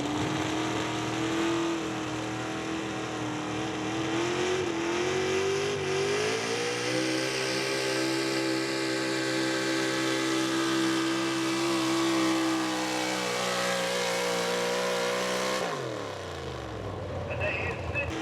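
Big-block 1970 Ford 4x4 pulling truck running high-output gas at a truck pull, engine roaring loud and steady, climbing in pitch through the pull before cutting off abruptly near the end, with an announcer talking over it.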